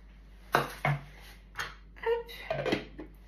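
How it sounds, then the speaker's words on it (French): Spoon scraping the inside of a Tupperware container holding a chocolate-pear mixture: several short, close plastic scrapes and knocks in an irregular rhythm, fairly quiet, no talking. "je vais racler légèrement ce que j'ai dedans"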